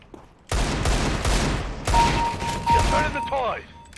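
Gunfire in a multiplayer shooter game, with loud bursts of shots starting abruptly and recurring in several volleys, mixed with game effects and a brief tonal whine.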